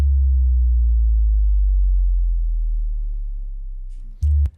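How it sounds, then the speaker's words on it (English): A deep, booming sub-bass tone sustains and slowly falls away for several seconds, then a short low hit with a click cuts in near the end. "I have this 808 drop I just threw in here"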